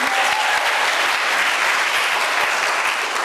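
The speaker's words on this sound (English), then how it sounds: "Give a round of applause for Andres." Church congregation claps for a young boy during a sermon, steady bright applause from many hands filling the room evenly from start to finish.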